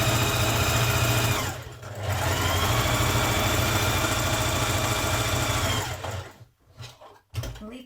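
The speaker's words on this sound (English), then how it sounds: "you're going to stitch 2 lines of gathering stitches" A sewing machine runs long gathering stitches through fabric, a loud continuous mechanical whir with one brief dip, then slowing to stops and a final short burst.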